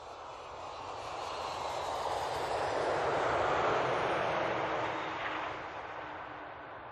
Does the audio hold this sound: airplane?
yes